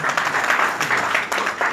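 Audience applause at a talk, a steady wash of many hands clapping, dense and continuous at moderate loudness throughout.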